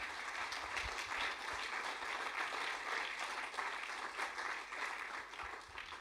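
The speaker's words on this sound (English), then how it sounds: "another round of applause, please, for Mark" A live audience at a TEDx event claps steadily for a speaker, a dense, even wash of applause that holds at a fairly distant, moderate level throughout.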